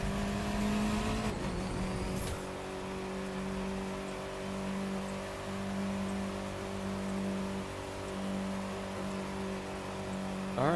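A Mini Cooper Countryman in the racing game The Crew 2 has a steady, droning engine note held at an even pitch, with a brief rev change near the start.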